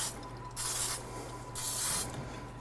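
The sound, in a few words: spraying a muffin tin at the sink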